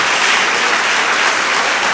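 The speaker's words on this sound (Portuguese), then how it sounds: "Dê uma salva de palmas a Jesus" Dense, steady applause from a large crowd, loud and continuous throughout without any talking.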